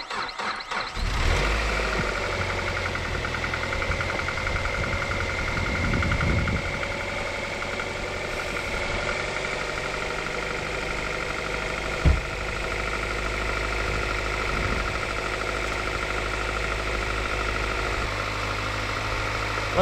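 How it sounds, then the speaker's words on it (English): A Ford Fusion SE parts car engine cranks and catches about a second in, then settles into a steady, loud idle with a faint knocking vibration and one brief clunk partway through. "We're gonna try to fire it up."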